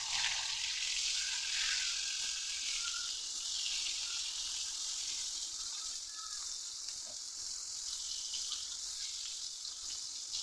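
Pointed gourd frying in a pan while dishes are washed nearby, a soft continuous hiss that blends sizzling with running water, faint and steady without any talk.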